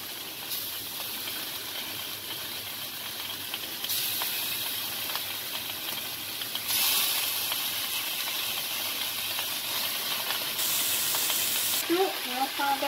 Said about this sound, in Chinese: 我们炒